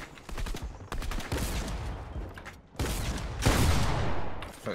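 Bursts of game gunfire in Fortnite crack out in a rapid series of sharp shots and louder booms, separated by short gaps, fairly loud throughout.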